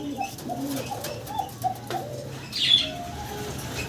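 Pigeons coo softly and repeatedly, low and throaty, with a brief flutter of wings and faint chirps nearby.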